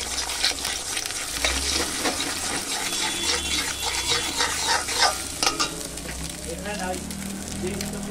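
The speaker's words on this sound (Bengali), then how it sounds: "তো এখানে আমি দুটো ডিম ভেজে নিচ্ছি কুচি কুচি করে" Two chopped eggs fry and are stirred in a hot wok, giving a loud continuous sizzle with scraping stirring strokes throughout.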